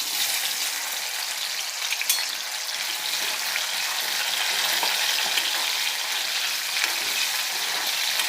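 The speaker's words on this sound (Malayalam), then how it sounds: "നമുക്ക് കുറച്ച് മാങ്ങ അതിനകത്തോട്ട് ഇട്ട് കൊടുത്ത് വറുത്ത് കോരി എടുക്കാം" Mango slices, cut without salt, fry in hot oil with a steady, dense crackling sizzle that runs unbroken throughout, with a few brief stirring scrapes rising above it.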